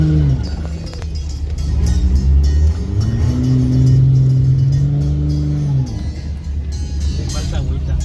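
BMW N54 car engine misfiring while revving: a loud, close engine rises and holds a high rev, then drops and rises again with a rough, uneven tone, while people talk over it.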